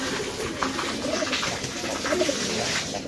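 Pigeons coo softly nearby, with several low, repeated cooing calls over a light background hiss.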